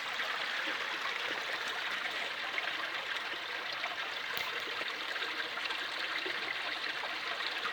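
Iron-rich water runs over stone in a small stream, a steady close trickle and wash with no break and no voices.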